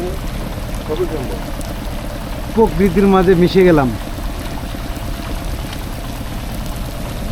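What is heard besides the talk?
rain falling on houseboat at Tanguar Haor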